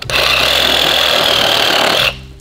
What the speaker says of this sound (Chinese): 锯一块木头试一下